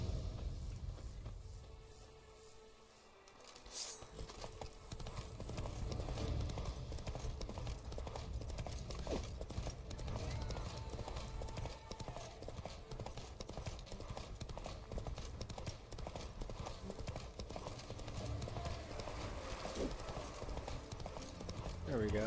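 Roach the horse gallops in The Witcher 3 game, with steady, rhythmic hoofbeats and a faint whinny under game music and ambience while a person talks over it.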